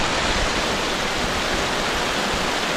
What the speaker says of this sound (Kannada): ಏನೋ ಮಳೆ ಹೆವಿ ಸ್ಟಾರ್ಟ್ ಆಗುತ್ತೆ ಬರೋ ಮಳೆ.